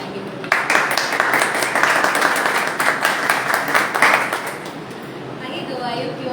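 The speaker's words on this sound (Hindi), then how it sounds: "आइए हम एक जोरदार ताली बुलाएंगे।" Congregation at a church Bible study service applauding loudly, a dense burst of clapping that starts abruptly, holds steady for several seconds and tapers toward the end, with faint voices underneath.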